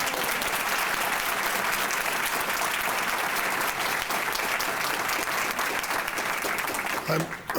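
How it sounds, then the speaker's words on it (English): Sustained applause from an outdoor audience at a Springfield 1908 National Monument celebration honoring the Park Service, dense steady clapping filling the whole stretch at even loudness before tapering at the end. "Let's give the Park Service a round of applause"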